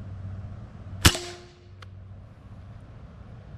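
Airgun pellet fired at a target about 25 yards away: a single sharp crack with a brief ringing tail, followed by a faint tick, over steady outdoor background noise.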